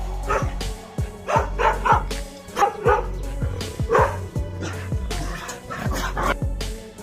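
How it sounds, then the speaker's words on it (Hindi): Several pet dogs bark in a farmer's street at night, sharp repeated woofs and yips overlapping in an irregular burst, fairly close and loud throughout. "उसके पालतू कुत्तों ने भौंकना शुरू कर दिया"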